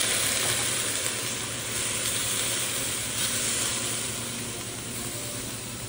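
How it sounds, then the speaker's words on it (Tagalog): Pork frying in a pan for ginataang tilapia, a loud and steady close-up sizzle that continues without a break and with no voices over it. "uunahin ko muna luto yung ating pork"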